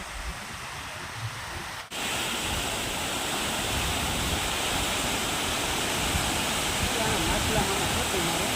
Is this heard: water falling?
yes